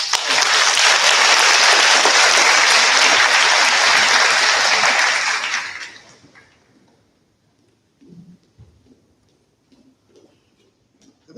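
Seniors of the Global Studies Honor Society at a high school cord ceremony are met with loud, sustained applause from an audience for about five seconds, then it cuts off to near silence with a few faint stray sounds.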